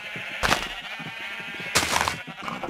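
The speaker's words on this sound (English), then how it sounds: "lots and lots of sheep, a cacophony of sheep, all different colours" Several sheep of different colours bleating in a pen in the Minecraft video game, two loud overlapping bleats standing out over a steady background of softer animal noise.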